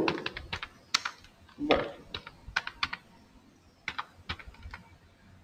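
Fingers type Python code on a computer keyboard, with quick clustered key clicks and short pauses between bursts. A single brief spoken word comes near the start.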